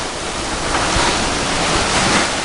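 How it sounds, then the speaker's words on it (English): Steady wind and breaking waves rush past a sailboat beating upwind at sea, far offshore on the passage from Panama to Maui, with wind buffeting the microphone throughout; no voices. "And now the wind's coming out of the west-northwest."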